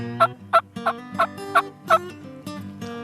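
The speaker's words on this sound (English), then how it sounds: "I like to hear them gobble." Wild turkey gobbling during a spring turkey hunt outdoors, a run of about six sharp, loud gobble bursts at a steady rhythm, followed by fainter, more drawn-out gobbles, with no talk.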